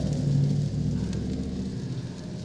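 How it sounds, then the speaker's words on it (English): A big truck passing through a residential neighborhood, a low rumbling drone that swells briefly, then gradually fades at moderate distance. "Big truck there sounds like the guy rolling through my neighborhood on morning times about 5:30 throwing those papers."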